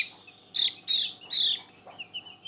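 A hen clucks close by in a yard with newly hatched chicks, three loud, harsh squawking calls in quick succession, then a few softer short clucks trailing off.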